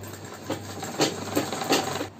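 A sewing machine stitching canvas layered with foam to make a salwar hem, a steady low hum with a few soft rhythmic stitching pulses.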